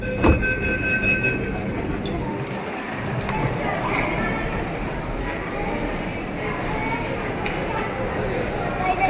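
A Pune Metro train ride produces a continuous loud rumble and rattling hum from the carriage for several seconds, with voices mixed faintly into the noise.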